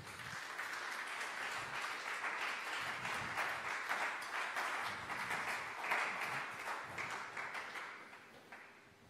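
A church congregation claps and applauds in praise, a dense, steady wash of many hands sustained for several seconds before easing off toward the end, with no voices standing out.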